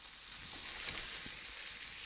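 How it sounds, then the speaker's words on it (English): A small food cube dropped into hot frying oil sizzles at once, a dense hissing crackle held steady and close throughout, with no voices. "If it starts sizzling immediately, it's hot enough."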